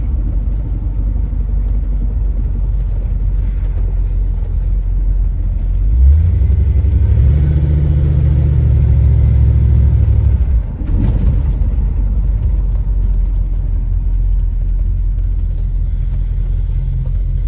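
Badass Pen project car, a former parts car still carrying bugs and a kick-down needing adjustment, drives along with a steady low engine rumble that swells into a loud rev midway before settling back.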